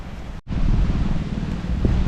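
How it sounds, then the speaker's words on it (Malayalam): Wind blowing near a beach in Lakshadweep, a loud steady rush buffeting the microphone after a brief drop at the start, with no voices. "ബീച്ചിൻ്റെ അടുത്തേക്ക് പോകുന്തോറും കാറ്റ് ചെറുതായിട്ട് ഇങ്ങനെ വീശി തുടങ്ങിയിട്ടുണ്ട്"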